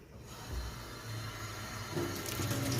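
Tap water runs over watermelons being rinsed for watermelon jam, a steady close splashing wash with a brief clunk early on and brighter spray toward the end.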